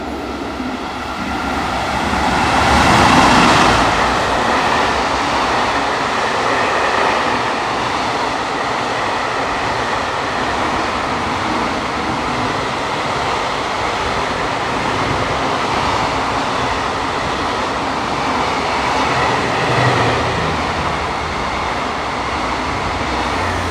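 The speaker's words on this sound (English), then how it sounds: "Here comes a freight train barreling through." A freight train roars through a station in Osaka, Japan, close by, a loud continuous rumble of rolling wagons and rattling wheels that holds steady throughout.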